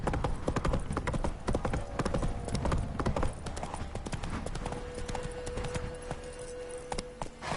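A horse's hooves clip-clop in a quick steady rhythm throughout a scene in The Witcher 3: Wild Hunt, close and prominent, with a faint tonal hum in the background.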